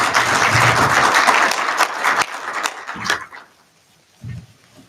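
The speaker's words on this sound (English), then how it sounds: "And so another round of applause, please." Conference audience applauding, a dense burst of clapping that holds for about three seconds, thins out into scattered claps and fades, followed by a brief low sound near the end.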